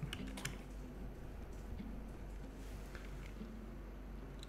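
Fingers typing on a KeyChron K6 mechanical keyboard fitted with Gateron Brown switches, giving a quiet, steady patter of soft clicky keystrokes close up with no voices.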